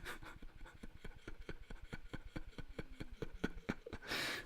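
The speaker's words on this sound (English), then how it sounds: "we'll try and get a 17-year-old cat snoring without waking him up." An elderly 17-year-old cat snores softly and close by in a steady, quick rhythm of faint raspy breaths, ending with a louder breathy exhale.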